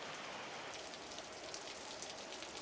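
Steady rain falls on a surface in a rural home garden during a wet-season downpour, a dense even patter of drops close by with no voices.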